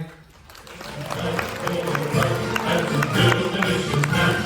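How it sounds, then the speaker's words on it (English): Audience clapping together at a military appreciation event aboard the cruise ship Carnival Breeze, a steady dense patter of hands with a voice talking over it throughout. "So I would like to see everybody clapping those hands."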